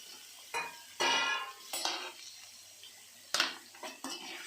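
A spoon stirs brinjal in hot oil in a pan for a Rayalaseema-style roast, producing loud intermittent scrapes and clatters over a low sizzle, close by.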